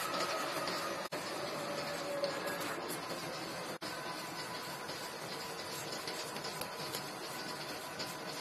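An 8-colour CI flexo printing machine runs at speed, giving a dense, steady mechanical hiss and whir that stays even and loud throughout, broken only by two very brief dropouts.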